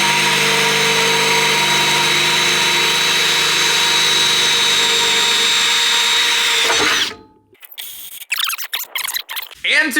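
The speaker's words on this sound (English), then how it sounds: "So first thing we're gonna do is drill it" A loud, steady power drill whines continuously while boring into a clutch pedal reservoir mount on an S10 pickup during an LS swap, then cuts off abruptly, followed by scattered handling clatter.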